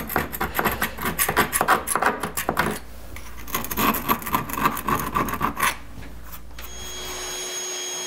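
Old caulk is scraped off shower grout with quick rhythmic rasping strokes, close and loud for several seconds before they stop, with no talking.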